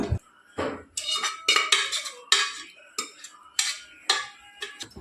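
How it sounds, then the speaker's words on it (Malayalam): Cooked beef tipped into a pan of hot masala: a spoon knocks and scrapes repeatedly against metal, making bright clanks in an irregular rhythm with short gaps between them. "മസാലയെല്ലാം നല്ലോണം ചൂടായതിന് ശേഷം വേവിച്ച് വെച്ചിരിക്കുന്ന ബീഫ് ഇതിലോട്ട് തട്ടി കൊടുക്കാം"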